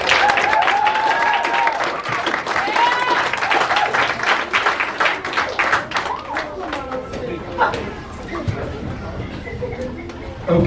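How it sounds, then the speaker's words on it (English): Audience applause for a kindergarten graduating class at an elementary school ceremony: sustained, dense clapping from a crowd fills the room throughout, with bits of chatter mixed in beneath it. "please join me in a big round of applause for our kindergarten class of 2023."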